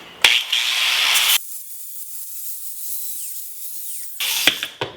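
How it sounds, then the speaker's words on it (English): An angle grinder fitted with a flap disc smooths the metal edges of a shop-made oil can holder: two loud, high whining grinding bursts at the start and end, with a quieter motor spin-down hum in between. "And we're going to get the grinder, flap disc here,"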